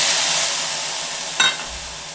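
Soaked chillies fry in hot oil with cumin for a black chana curry, making a loud, steady hiss with a brief clatter of stirring in the middle.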